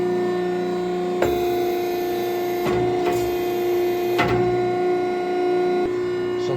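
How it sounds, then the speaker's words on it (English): A tube bending machine for single-wall bends runs a reverse cycle: a steady mechanical hum with sharp clunks and short whirring bursts as the mandrel and tooling move back, close and loud. "I'm gonna reverse cycle now"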